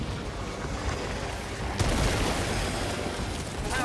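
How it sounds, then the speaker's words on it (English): A grenade detonates in Helldivers 2 with a loud booming blast partway through, following a dense rumble of battle noise and scattered gunfire. "Throwing grenade!"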